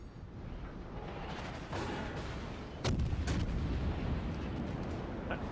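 Naval guns fire from a warship in the World of Warships game, including the Scharnhorst, with several sharp booming blasts over a steady rumbling battle background, louder bursts near the middle.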